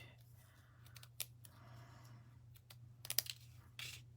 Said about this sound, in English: I'm going to just snip it down the middle here